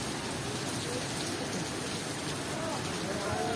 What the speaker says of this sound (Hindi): वैसे बारिश अभी भी अच्छी हो रही है लेकिन उम्मीद है कि और अच्छी हो जाएगी।